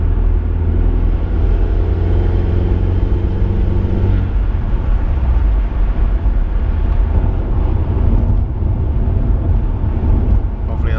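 An Audi A4 fitted with an upgraded K04 turbo idles as a steady, loud, low rumble close by, holding an even drone throughout with no voices over it.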